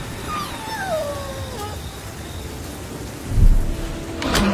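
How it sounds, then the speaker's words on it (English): Thunderstorm effect for an animated film: steady hiss of rain with a low rumble of thunder rising near the end, with faint whistling tones drifting down early on. "thunder roared across the sky"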